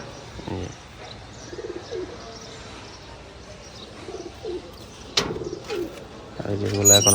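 Pigeons in a home coop coo softly several times, in low throaty phrases spread out over a few seconds, with light rustling and chirps nearby.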